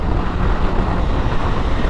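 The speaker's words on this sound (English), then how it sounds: "now windy as hell." Strong wind buffets a microphone inside a helmet, a loud, steady roaring rumble that fills the whole moment without a break and with no talking.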